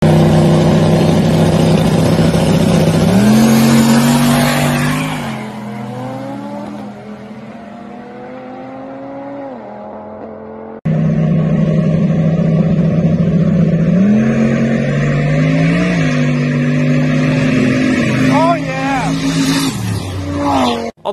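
Drag race between a turbo LS Fox body and an Audi RS3, with loud engines roaring and rising through gear shifts, fading into the distance, then a second close, powerful run accelerating away.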